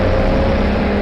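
A race car powers out of Graham Hill Bend at Brands Hatch with a loud, close, sustained engine drone in a very short burst.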